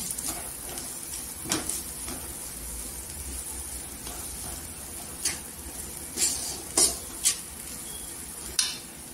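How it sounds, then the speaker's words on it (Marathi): Onion-and-coconut masala sautéed in oil in a pan for whole masoor dal, a steady low sizzle with occasional spoon scrapes and stirring clinks close by. "छान तेलावर परतून घ्यायचं की मसाल्याला तेल सुटेपर्यंत"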